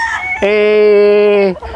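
A loud, close gamefowl rooster crow on a game farm: one long, sustained harmonic call lasting about a second, with faint sounds before and after.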